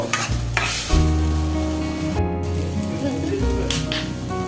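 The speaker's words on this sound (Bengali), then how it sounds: "কাশ্মীরি লঙ্কার গুঁড়ো দিচ্ছি কালার হওয়ার জন্য। ভালো করে একটু কষিয়ে নেব।" Kashmiri chili powder sautéed in a pan while making street-style ghugni, with steady stirring and scraping over a soft sizzle, plus a faint background tone; no one speaks.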